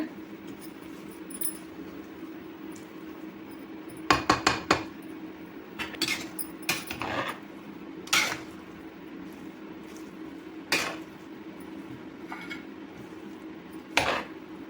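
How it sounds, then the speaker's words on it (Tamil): Mutton biryani being mixed in a pot after coriander and mint are added, heard as scattered metallic clanks and scrapes of a spoon against the pot, with a cluster of sharp knocks early on and quieter stirring between, no talking. "மல்லி புதினா சேர்த்துட்டு நல்லா கலந்து விட்டுக்கோங்க"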